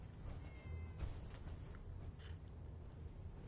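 A small gray cat in the Fallout 4 video game gives soft, brief meows over a steady low game ambience, with no talk.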